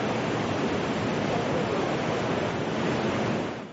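Tsunami waves surge inland along the Japanese coast, overwhelming coastal defences with a dense, continuous roar of rushing water that holds loud and steady before easing slightly at the end.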